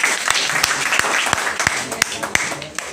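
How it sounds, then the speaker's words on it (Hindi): An audience at a film premiere show claps for a cast member, a continuous round of applause punctuated by a few sharp, louder individual claps, with a voice faintly present beneath. "इनके लिए जोरदार तालियां।"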